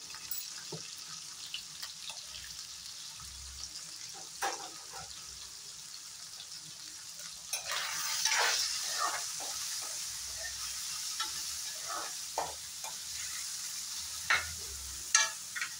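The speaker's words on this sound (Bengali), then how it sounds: "আলু আর সয়াবিনটা ফ্রাই করে নিলাম" Potatoes and soybean chunks with turmeric frying and being stirred in a pan: a soft, steady sizzle with scattered scraping and clinking of a utensil, close and fairly quiet.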